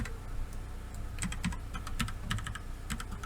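Keys on a computer keyboard click close by in a quick irregular run of taps while a 3D model is edited in Blender, over a steady low background hum with no speech.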